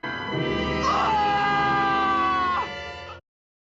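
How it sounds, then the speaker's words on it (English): William Shatner screams as Captain Kirk under attack by the salt vampire in the original Star Trek series: one loud, sustained, wavering cry of about two seconds over a dense, busy soundtrack bed. "Shatner screams when attacked by the salt vampire"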